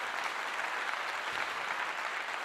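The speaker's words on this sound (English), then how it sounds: "Lady Net, clap to you." Steady, dense applause from a crowd welcoming a guest, fairly faint and continuous throughout with no break.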